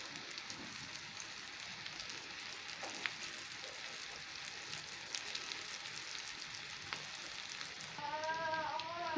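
An egg omelette fries in a pan, giving a steady, soft crackling sizzle throughout with a few faint clicks, rising slightly in the last second; no one speaks.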